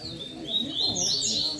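Wild coleiro and papa-capim seedeaters sing in a lively group, thin high chirps and trills overlapping close by over a soft low background murmur.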